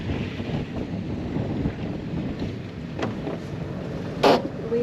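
Steady wind rushing and buffeting the microphone aboard a sailing boat at sea off the Scottish coast near Kerrera, a continuous broad roar with a few sharper gusts and knocks, no talking.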